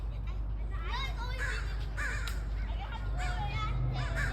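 Crows caw repeatedly near their chicks, harsh calls breaking out in bursts over a steady low rumble of background noise, with no voices in between.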